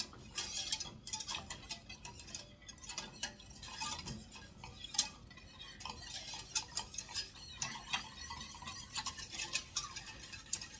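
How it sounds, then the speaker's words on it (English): A whisk stirs a coconut cream cake mixture in a bowl: quick, irregular ticking and clinking of wire against the bowl, light and close, with no talking. "Now you could use a spoon, but I highly recommend using a whisk."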